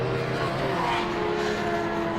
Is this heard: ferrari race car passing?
yes